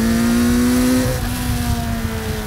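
A custom trike powered by a Kawasaki Ninja 900R engine revs hard nearby, a loud sustained high-pitched whine that holds steady then drops slightly as it shifts; no talking.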